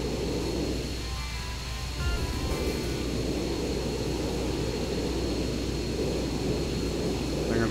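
Military aircraft taking off in the video game Arma 3, a steady, droning engine roar with a whining tone that swells slightly and holds, continuous over the whole clip with no voices.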